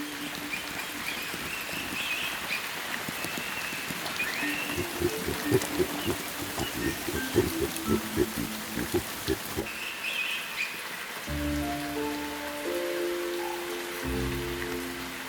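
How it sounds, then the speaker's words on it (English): Steady hiss of falling rain in the Kenyan wild, with birds chirping through it and some tonal sounds in the later part. "rain is very wet"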